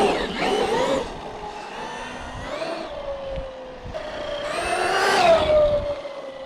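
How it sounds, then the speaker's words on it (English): A Traxxas Maxx V2 RC truck on a 4S 6700 battery making high-speed runs down a street, its electric motor whining and rising in pitch as it accelerates past, fading, then surging again louder. "We're going to do some high-speed runs here on the street real quick"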